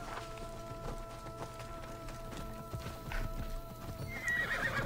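Horse hooves clip-clop steadily in Assassin's Creed Odyssey, with a whinny rising near the end over a constant game ambience.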